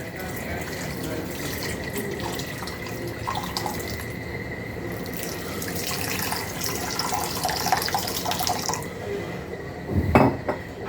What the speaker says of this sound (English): We'll wash them with one water so that all the dirt or something is there that will go away